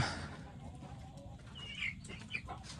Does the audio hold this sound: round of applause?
no